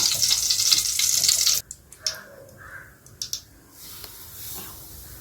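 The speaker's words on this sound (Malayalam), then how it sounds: "ഇനി ആവശ്യത്തിന് നെയ്യ് ഒഴിച്ചെടുക്കാം" Ghee poured into a hot pan while making kesari, a loud bright sizzle for the first second and a half that cuts off abruptly, followed by faint scattered clinks and soft sputtering.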